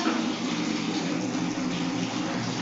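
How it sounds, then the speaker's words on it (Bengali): Water runs steadily from a household tap fed from a geyser, making a continuous close-up gush without pause or talking. "কলটা অন করো"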